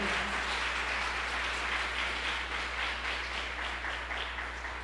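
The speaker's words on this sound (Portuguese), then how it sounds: "Pode aplaudir com alegria" A church congregation applauds together, a dense and steady wash of clapping held at an even level throughout, slowly thinning toward the end, with no clear speech over it.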